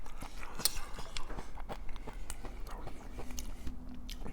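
Someone chews crunchy picadillo, a Mexican chili-like dish topped with crema, at close range with soft, irregular biting and crunching sounds and no talking.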